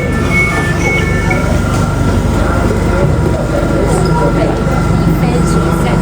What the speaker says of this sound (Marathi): चला आता मेट्रो आली आहे.